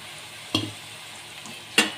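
A spoon stirs bitter gourd fry in a pan with a ground mixture of coconut, small onions and salt. Two short scraping strokes sound close over a faint, continuous sizzle.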